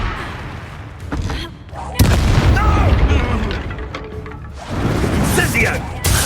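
A Confringo fire spell exploding in the Hogwarts Legacy wizard game, with heavy booming blasts and crackling bursts close by, a loud hit around the middle and more following, while people talk over the explosions.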